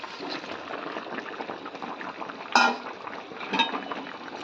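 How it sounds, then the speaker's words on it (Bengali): Curry bubbling at a rolling boil in a pot, a continuous close, moderately loud burble with two brief metallic knocks partway through, and no one talking. "টকবক করে ফুটে যাচ্ছে।"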